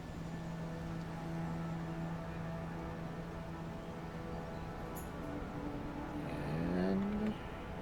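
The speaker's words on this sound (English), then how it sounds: "now we just need to wait for the vehicle to move past" Engine of a vehicle in the video game Broken Arrow, a steady low hum that rises in pitch near the end as it moves past, with no talk.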